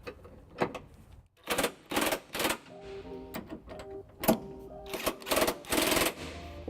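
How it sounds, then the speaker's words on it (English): An electric impact wrench with a 5-inch extension and 3/4 socket snugs up trailer hitch bolts on a 2005 Pontiac Aztek, firing in several short, sharp rattling bursts separated by pauses, fairly close. "Now with the electric impact, I'll be using a 5-inch extension and a 3/4 socket to snug up the remaining bolts."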